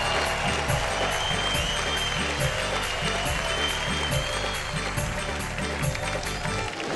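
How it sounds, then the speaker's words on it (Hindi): A large audience applauds loudly and continuously at a Hindi poetry stage show, a dense steady wash of clapping held at a constant level throughout, with a low hum of crowd and music underneath. "हम बजाएं उनके लिए जोरदार तालियां"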